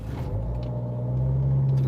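Cars pass on a road with a close, steady engine rumble that swells slightly louder toward the end.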